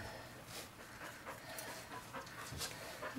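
A very hairy dog pants steadily at close range while a harness is fitted and its straps tightened, the quick breaths running continuously through the short stretch with no talk.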